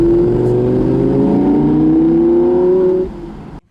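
An Audi R8 V10 Spider drives in the hills near Barcelona, its engine note rising steadily as it pulls hard and loud, then easing off abruptly toward the end.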